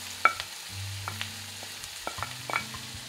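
Chopped onion drops into a hot pan for a homemade pot-baked pizza, bringing a steady soft sizzle with a few scattered stirring clicks and taps.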